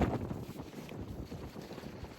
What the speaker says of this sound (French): le vent pompe